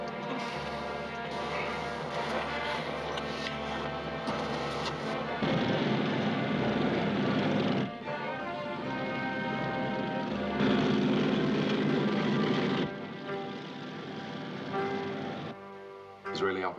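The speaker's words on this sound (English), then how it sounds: "Israeli Alpha X-ray 22 cleared for takeoff." An airliner's engines roar steadily during takeoff, a loud, continuous drone that swells and shifts in level, heard from inside or near the aircraft.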